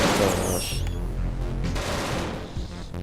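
An iron thrower weapon fires in the space game Genesis Alpha One as a dense, continuous barrage of booming, crackling blasts. It stays loud and near throughout, with a few whistling tones at the start.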